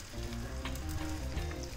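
Karimeen (pearl spot fish) sizzles in a hot frying pan: a steady, close, crackling fry with small pops throughout and no voices.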